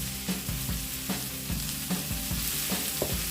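Brussels sprouts fry in a pan with bacon and onion, a steady close sizzle with repeated scraping stirs every half second or so, no talk over it.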